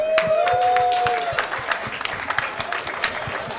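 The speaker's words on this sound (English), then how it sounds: "Let's give him one more round of applause" A gaming convention crowd gives a round of applause for a miniature-painting contest winner, dense clapping with distinct individual hand claps popping through, a brief whistle early on, and the sound gradually thinning out.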